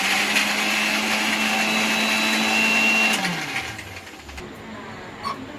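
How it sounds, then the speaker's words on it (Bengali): A mixer grinder blending garlic, ginger, tomato and onion into paste, a loud steady motor whir that runs for a few seconds, then drops in pitch and winds down. "এটা আবার মিক্সিতে বেটে নেবো।"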